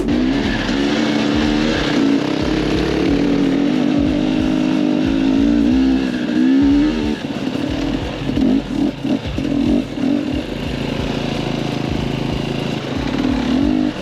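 Motorcycle riding on one wheel past a mountain road in Antalya, engine loud and close, rising and falling over fourteen seconds among other traffic noise.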